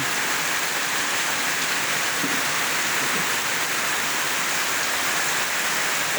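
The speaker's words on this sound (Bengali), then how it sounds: "একটানা বৃষ্টি মোট বন্ধ নাই।" Continuous heavy rain pours down under a dark, cloudy sky, a steady, dense hiss that holds an even level without a break and with no voices.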